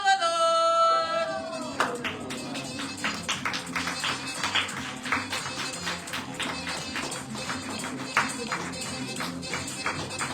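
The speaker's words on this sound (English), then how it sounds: "Let's hear a round of applause." An audience at the International Women's Conference claps after a brief tonal sound at the start, with scattered, uneven handclaps and taps ringing out close by and continuing irregularly throughout.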